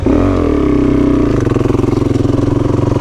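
A loud, close Suzuki DR-Z400E dirt bike engine revs and then drops into a choppy, pulsing idle-like throb, in the desert.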